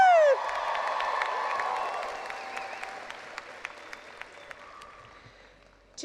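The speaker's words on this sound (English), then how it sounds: "Can I get a cheer from you guys?" A graduating class at a college commencement cheers and applauds, a broad wash of clapping and whoops from a large crowd that swells, then gradually thins and fades over several seconds.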